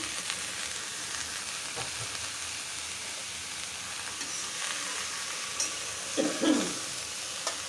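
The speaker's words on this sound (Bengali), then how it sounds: "এটা পাতাকপি ভাজি করব।" Freshly cut cabbage bhaji cooks in a pan with a soft, continuous hiss of frying, close and fairly quiet, and a few faint knocks and scrapes near the end.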